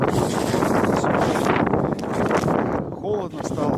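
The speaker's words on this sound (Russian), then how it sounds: "Холодно стало, ветер." Wind gusting steadily across an outdoor winter fishing spot in December, a loud continuous broadband rush buffeting the microphone, with a brief voice or call near the end.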